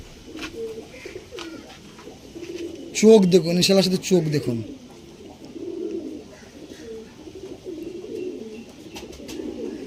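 Pigeons of the Kalshira and red Shila show lines cooing in low, throaty repeated phrases, while someone talks loudly over them for a stretch in the middle.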